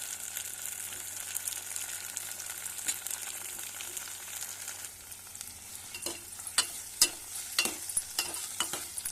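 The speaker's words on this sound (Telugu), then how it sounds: "ఇప్పుడు టమాటా ముక్కలు వేసుకోవాలి." Tomato pieces and onions frying in a pan for a ridge gourd curry, a steady hiss of sizzling with spatula scrapes and clinks growing busier and louder toward the end; no voices.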